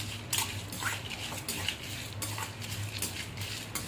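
Dry roasting in an empty pan with no oil for mutton curry gives a steady close scrape and rattle of stirring, with intermittent sharp metallic clinks of a utensil against the pan.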